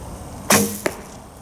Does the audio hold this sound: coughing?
no